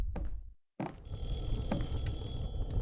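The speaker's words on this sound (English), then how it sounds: "Ah, the phone." A telephone rings inside the video game Box of Broken Nails, with repeated bright ringing tones that start after a short dropout and continue steadily against a low background rumble.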